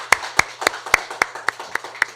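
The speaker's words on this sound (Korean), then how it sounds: "하나님께 영광의 박수 올려드리겠습니다." Slow, evenly spaced claps ring out about eight times in a steady rhythm, sharp and moderately close, during a Sunday church service, with a faint low hum underneath and no speech.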